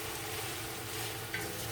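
Sausage frying in a pan for fried rice gives a steady, moderately quiet sizzle that holds evenly throughout, with one faint clink near the end.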